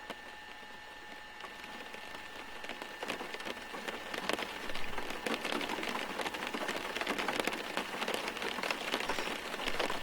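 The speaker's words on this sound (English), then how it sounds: "Listen to what happens when we start adding rain to this." Simulated rain in the X-Plane 11 flight simulator starts quietly, then builds into a louder, denser patter of drops tapping on the aircraft with a faint steady tone underneath.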